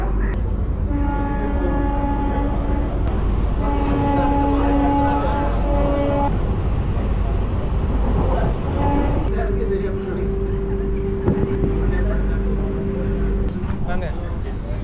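An AC suburban train from Chengalpattu to Chennai Beach rumbles along continuously with a steady, loud roar, tonal whines rising above it and people talking over the noise.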